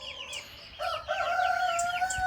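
Roosters and chickens crow before dawn, with several overlapping, rising cock-a-doodle-doo calls close by and a few short chirps in between.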